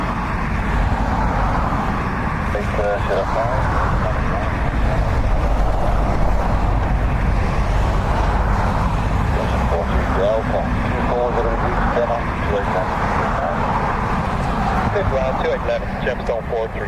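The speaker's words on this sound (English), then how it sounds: "Another ATR, this time from Donegal." An ATR turboprop aircraft arriving from Donegal lands at Dublin Airport in a crosswind, its engine and propeller roar a steady, loud drone with a person talking over it throughout.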